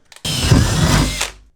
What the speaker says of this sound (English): it really helps for drilling through the steel